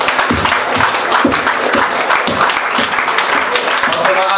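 Concert audience in a club applauding between songs at a live band show, dense sustained clapping with scattered louder claps and crowd noise throughout, with some voices mixed in.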